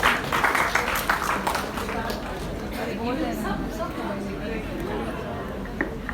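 An audience at a junior college Hindi Divas event applauds, a burst of clapping at the start that settles into a crowd murmur of chatter.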